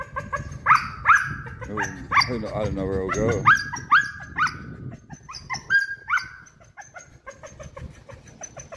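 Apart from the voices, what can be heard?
dog barking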